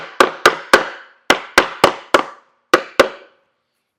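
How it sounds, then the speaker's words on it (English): Hammer tapping wooden dowels flush on a DIY portable stool: ten crisp, loud, close wooden knocks in quick uneven groups, each ringing briefly before the next. "you can just give them a little tap with your hammer"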